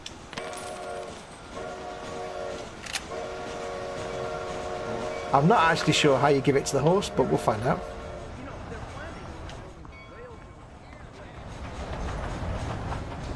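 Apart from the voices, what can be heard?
train passing in the video game Red Dead Redemption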